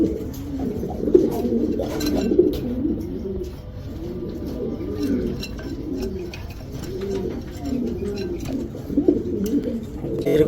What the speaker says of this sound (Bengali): এগুলো কবুতর বিক্রির না।